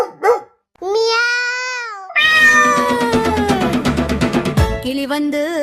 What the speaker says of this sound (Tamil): பூனைக்குட்டி மியாவ் சொல்லுது.